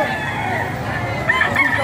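Chickens and roosters at a crowded poultry market crow and cluck, a rooster's call rising above a dense, steady background of birds and murmur, close and fairly loud.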